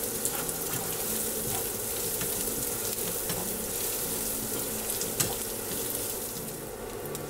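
Grated ginger and garlic fry in a hot pan, building the base for a home-style bhindi masala; a steady, fairly loud sizzle runs throughout with occasional stirring scrapes and no talking.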